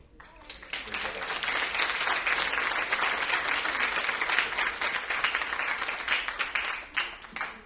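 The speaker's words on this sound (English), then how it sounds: "You're clapping because he actually can curse" A theater audience applauds steadily for several seconds after a play, dense clapping from many hands swelling quickly and holding fairly even before tapering at the end.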